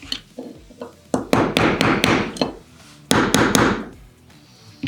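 An extractor is tapped into a Walther P22 pistol slide, giving a series of close, sharp hammer taps in two rapid clusters with a few lighter knocks before them.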